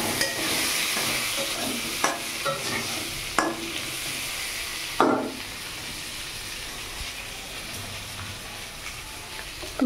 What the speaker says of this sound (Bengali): আলুটাকে একটু লাল লাল করে ভেজে নেব।